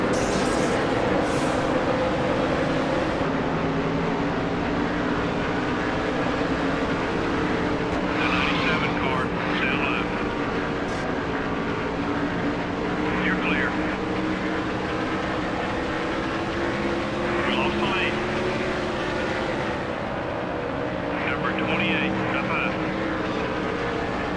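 NASCAR Cup race cars roar around Las Vegas in NASCAR Thunder 2003 on PS2, a steady loud engine drone from a pack of cars that never lets up, with a voice talking over it.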